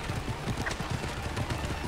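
Rhythmic clip-clop of horse hooves at a steady trot fills Assassin's Creed Origins gameplay, loud and continuous, with a faint bit of background game sound.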